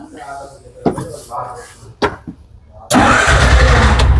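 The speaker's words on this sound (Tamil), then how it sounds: "கீயை ஒருக்கா திருப்பினாலே ஸ்டார்ட் பண்ணுறேன்" A fuel-injected motorcycle is started with the key: a few clicks and knocks come first, then the engine catches abruptly and settles into a loud, steady idle rumble close by.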